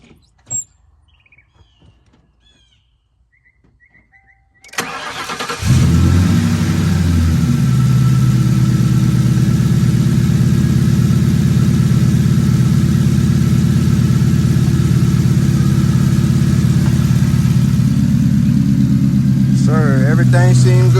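A car engine cranks and catches, then settles into a loud, steady idle that runs on close by after a quiet start, just after an oil catch can was fitted.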